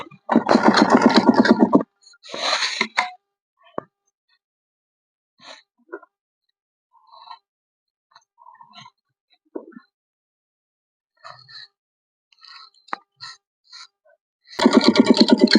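A sewing machine stitches suit fabric, its loud whirring motor running in close bursts at the start and end, with faint handling taps and short runs in between.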